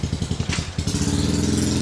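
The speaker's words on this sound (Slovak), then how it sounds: "ľudia to aj tak nemajú problém jazdiť na motorkách v takýchto mini uličkách." A motorcycle rides through a narrow alley in Bangkok, its engine putting out a steady, close, rhythmic putter that grows into a continuous drone, with no talk over it.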